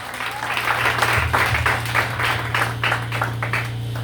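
An audience breaks into applause at a gathering, a dense burst of clapping from a crowd that holds steady for several seconds over a low hum.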